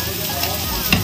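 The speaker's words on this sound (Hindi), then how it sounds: "थोड़ी सी ये रेड वाली चिली डाल रही हूँ," Red chili going into a sizzling pan of chilli paneer and being stirred, a steady close-range frying hiss with soft scraping strokes, no speech.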